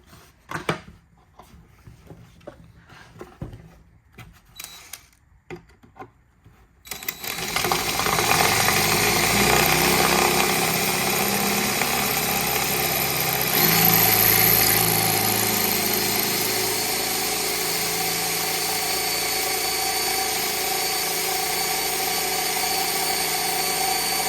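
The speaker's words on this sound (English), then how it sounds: "Well, let's drill them." Power drill boring out badly rusted screws rotted into plastic, a loud steady motor whine after a few seconds of quiet handling clatter, running continuously with a brief surge partway through.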